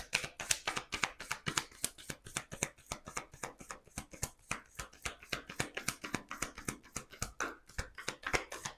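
Tarot cards are shuffled and drawn in a steady run of crisp, close riffling taps and flicks, about three or four per second, with no talking.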